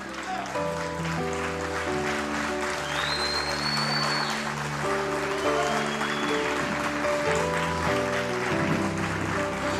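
Church worshippers clap and rise to applaud under sustained, tonal music with melodic lines and held chords, the clapping a steady texture beneath the louder music throughout.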